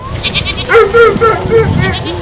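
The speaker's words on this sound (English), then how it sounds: "This herd of 220 brush-clearing goats are used to create fire breaks around SDG&E's electric infrastructure." A herd of 220 brush-clearing goats, used to cut fire breaks around electric infrastructure, bleats repeatedly and close, several wavering calls overlapping one another.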